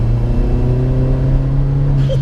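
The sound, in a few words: hybrid turbo Seat Leon Cupra R accelerating on boost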